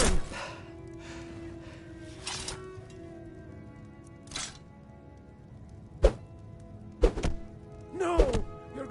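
Heavy, hollow thuds strike a clay urn in Skyrim, landing roughly a second apart near the end, with a pleading voice talking over a dim background beforehand.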